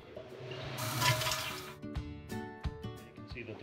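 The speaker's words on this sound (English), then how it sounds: "We'll flush the toilet and we'll see where the water level goes." A household toilet with an adjustable float in the tank flushes with a loud rushing surge, then settles into quieter running water and clunks as the tank refills, close by.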